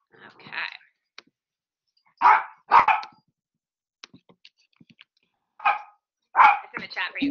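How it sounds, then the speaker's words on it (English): A pet dog barks in sharp bursts indoors, several loud barks spaced irregularly with short pauses and faint clicks between them. "Sorry about my dog."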